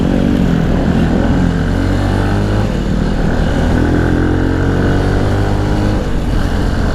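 A motorcycle engine runs steadily up close, a loud continuous drone with a slight pitch shift as it revs, and no one speaking.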